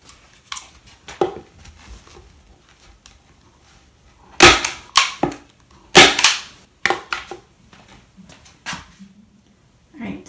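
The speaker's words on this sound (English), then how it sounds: "I'm using my staple gun to hold the batting in place" Sharp, snappy clacks of a staple gun fastening batting to a foam-topped storage seat base, coming in irregular single shots and quick pairs, with a few fainter handling knocks between them.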